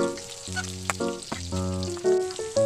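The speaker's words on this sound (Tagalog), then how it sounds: "So kay nahinay naman ang tingog sa mantika nga gauros-uros" Chicken pieces frying in hot oil in a home kitchen, a steady close sizzle under a strong tonal hum with brief clatters and stirring knocks.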